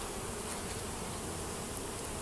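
Honeybees hum in a dense, steady buzz while a natural-comb hive is opened for inspection, a constant close drone of many insects with no voices.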